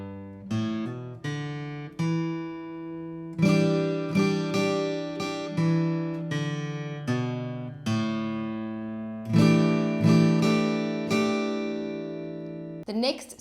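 Acoustic guitar playing the chord line of a song, with strummed and picked chords and hammer-ons ringing out in an uneven rhythm at moderate volume, with no voice.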